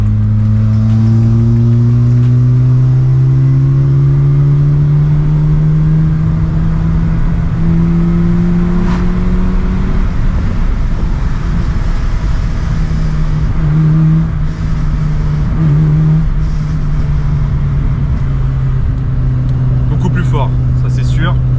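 Peugeot 106 Quiksilver petrol engine fitted with a cone air filter, revving and pulling through the gears while driving, a steady loud drone with rising and falling harmonic pitch under occasional talk from people in the car.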